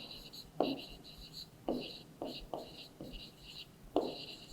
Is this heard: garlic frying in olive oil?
no